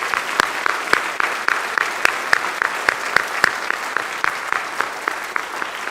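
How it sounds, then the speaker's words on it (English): School band concert audience applause with steady clapping throughout, fairly close and lively, with a few sharper individual claps standing out. "Let's give these students a round of applause for their hard work."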